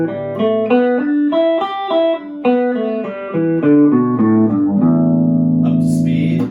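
An electric guitar plays a minor pentatonic scale as clear single notes, climbing and then descending at a steady pace before settling on a sustained low tone.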